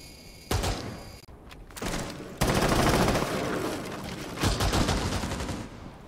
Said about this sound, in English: That recoil control is really good on the FMG9.